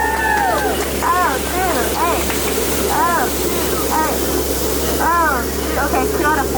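Steady rush of falling water as a Jungle Cruise boat at Disneyland glides behind a waterfall, with whooping and cheering riders and a guide's voice over the constant roar.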